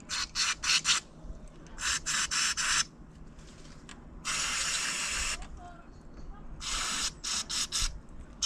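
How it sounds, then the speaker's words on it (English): Electrical contact spray hissing from an aerosol can in a motorhome, several short bursts followed by one long spray lasting over a second, then more quick bursts, close and loud against a quiet background. "Electrical contact spray."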